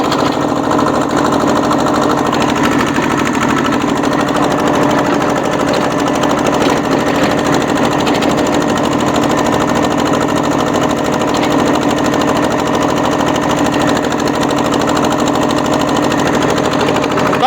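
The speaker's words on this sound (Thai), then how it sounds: "ตอนนี้ผมกำลังใช้เกียร์หนึ่งอยู่นะครับ" A modified tractor fitted with a rotary tiller runs in first gear with its drive belt shaking hard, a loud, steady, close engine drone with rattling mechanical clatter that holds unbroken throughout.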